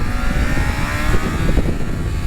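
A Honda CBR 600 motorcycle engine revving hard and close, a loud continuous rasping roar with small rises and dips in pitch during downshifts.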